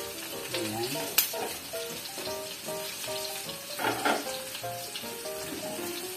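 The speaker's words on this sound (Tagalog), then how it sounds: "Parang gigisahin natin yung gabi, guys." Taro (gabi) pieces sauté in a pan over medium heat with a steady soft sizzle, while utensils stir and clink now and then and faint background music plays.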